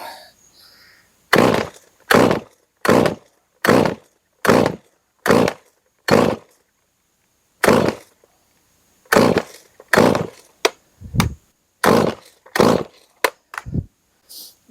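A rebuilt, mildly ported Stihl MS311 chainsaw with a modified muffler roars through a string of loud throttle blips, about fifteen short close revs separated by near-silent gaps, with no voices.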